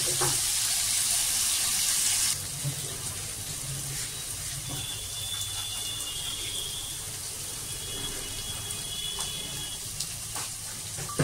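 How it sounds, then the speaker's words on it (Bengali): Chopped green chilli tipped into a pan of mushrooms with spring onion and tomato, giving a steady watery sizzle and hiss, loud at first and then settling into a softer continuous fry. "কষিয়ে নেব। আর দিয়ে দিচ্ছি লঙ্কা কুচো।"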